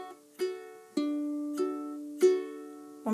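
Ukulele fingerpicking pattern, notes plucked one at a time and in clusters at an even pace, ringing clearly and alone with no talk.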